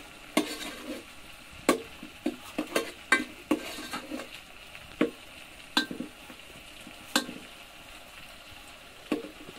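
Dal added to a spice tempering in a pot at an outdoor vegetarian feast, a soft low sizzle under scattered sharp clinks and scrapes of a metal spoon stirring, fairly quiet and close.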